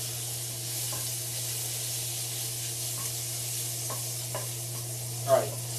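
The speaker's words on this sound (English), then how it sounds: "Alright, so the bacon's going." Bacon frying in a pan makes a steady, moderately loud hiss and crackle, with a few soft clinks and one brief louder knock near the end, all under a constant low electrical hum.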